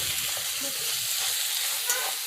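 Schezwan fried rice masala spices sautéing in hot oil in a pan, a steady close sizzle with faint stirring scrapes throughout, no talking.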